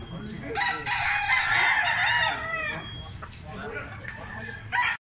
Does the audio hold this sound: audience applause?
no